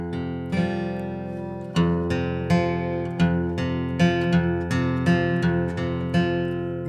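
Strummed guitar power chords ring out repeatedly in a steady rhythm, each attack sharp and then sustaining, played alone and close.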